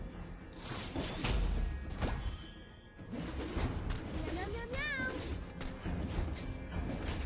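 A cat meows in the mobile game Mobile Legends as the hero Nana takes her cat form, rising and falling mid-clip over busy game effects, music and swooshes.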